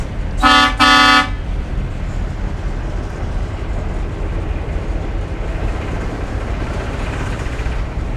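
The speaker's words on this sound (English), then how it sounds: "Air horns?" Two loud, sustained blasts from the air horns of a 1962 Kenworth Dart prime mover truck, close and brassy, followed by a steady rumble of engine and road noise.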